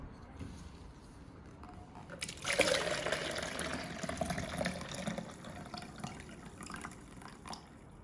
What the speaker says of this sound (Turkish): öncelikle üzerine su ekliyorum. Tekrardan suyumuzu sürahimize ilave edeceğiz.